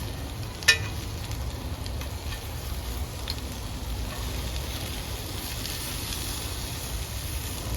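Food stirred while frying in a pan, a steady broadband sizzle running throughout with one sharp scrape or clink near the start, no talking.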